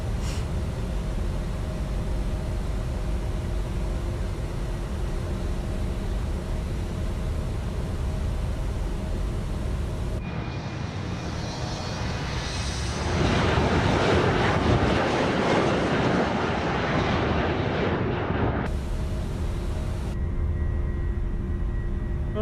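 An airliner in Microsoft Flight Simulator climbs out of Savannah, Georgia, with a steady engine roar and rushing air throughout, swelling louder partway through before settling back to a constant drone.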